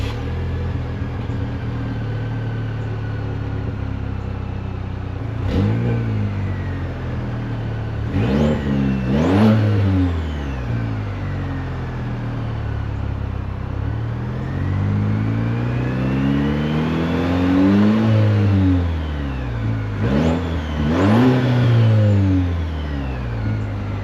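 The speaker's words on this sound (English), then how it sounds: "that exhaust note actually sounds pretty throaty for a 4-cylinder" A 2026 Chevrolet Colorado four-cylinder pickup exhaust revs repeatedly, rising to throaty bursts and falling back to a steady idle rumble, heard close at the tailpipe.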